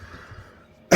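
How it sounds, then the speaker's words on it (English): A single loud, harsh cough bursts out at the very end, after a stretch of quiet room hiss, from a person giving a pick-a-card tarot reading. "Why am I coughing so badly?"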